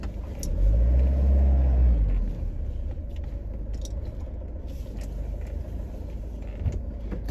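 A camper van engine on a narrow road in the Scottish Highlands rumbles loudly as it revs for about two seconds, then settles into a steady low idle with faint clinks and no talking.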